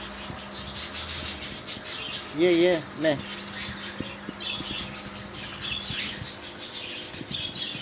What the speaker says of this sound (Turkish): Hayvan şu an kuşların sesinden korkuyor